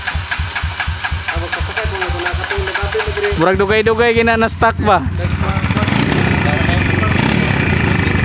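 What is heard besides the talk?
motorcycle engine idling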